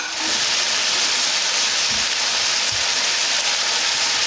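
Saltfish frying in a pan for Jamaican ackee and saltfish, a dense, loud, continuous sizzle with faint stirring knocks underneath, steady from start to finish.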